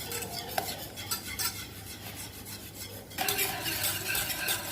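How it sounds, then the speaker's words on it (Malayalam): Spoon stirring cake batter in a bowl, a steady run of soft scraping and clinking strokes, close and continuous, growing a little louder and brighter toward the end, with no talking. "കുറേശ്ശെയായിട്ട് മിക്സ് ചെയ്യുന്നതിനോടൊപ്പം തന്നെ നല്ല രീതിയിൽ നമ്മൾ സ്റ്റിർ ചെയ്ത് കൊടുക്കേണ്ടതാണ്"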